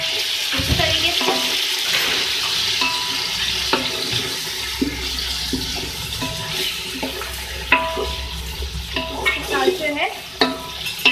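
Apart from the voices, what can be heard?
chicken being mixed and frying in a pot for pulao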